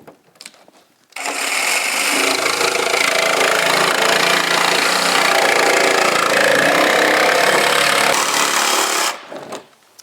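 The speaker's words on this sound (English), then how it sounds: "So the jigsaw works fast." A jigsaw cuts through the corner of a Ram Promaster van's metal wall panel, a loud continuous buzzing rasp that starts abruptly after brief clicks, holds steady for about eight seconds, then stops.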